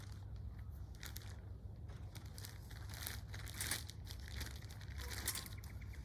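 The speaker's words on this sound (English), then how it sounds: "I will slide the plastic off after." Plastic protective wrap sliding and crinkling off a brand-new Kimberley Kruiser camper awning, a steady rustle running throughout with a few louder crackles, close and fairly quiet.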